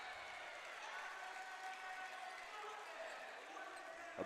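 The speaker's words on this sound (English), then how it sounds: "A big roar from that Maples crowd here." A crowd roars at a men's college volleyball match in Maples Pavilion, a steady broad cheer heard faintly from a distance.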